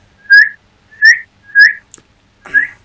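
A person whistles four short rising notes, each about a quarter second long and spaced evenly, close and clear, with the last note rougher and breathier, and no talking.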